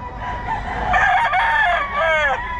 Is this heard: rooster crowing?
yes